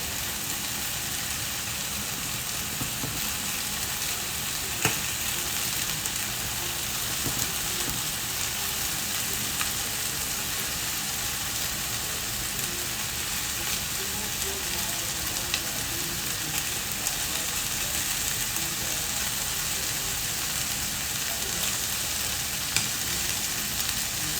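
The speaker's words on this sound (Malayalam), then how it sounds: "നമുക്ക് അടുത്ത സെറ്റ് ചിക്കൻ ഇട്ടിട്ട് ഇതുപോലെ തന്നെ ഷാദ ഫ്രൈ ചെയ്തെടുക്കാം" Hariyali chicken kebab pieces shallow-frying in butter in a pan give a steady, even sizzle that holds at a constant level throughout, close and unbroken, with no voices.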